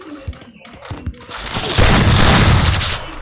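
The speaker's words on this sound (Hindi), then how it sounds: "शॉट" Gunfire in the Free Fire battle royale game: a few faint early thumps, then a loud sustained burst of shots and crashing noise filling the second half, close and dense.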